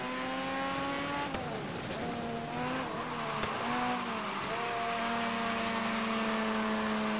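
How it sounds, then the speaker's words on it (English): Tires squealing as a Mazda RX-7 FC drifts in Forza Horizon 3, a sustained screech riding over a loud droning engine that shifts pitch through the slide, continuous with no talk. "Man, this FC really wants to drift."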